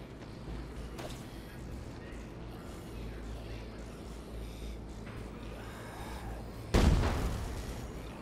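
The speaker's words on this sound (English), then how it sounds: "More fireworks. Those are fucking fun." Rocket fireworks explode in the zombie video game Dead Rising 3 inside a fireworks store. A single heavy boom lands near the end over a steady low rumbling game background.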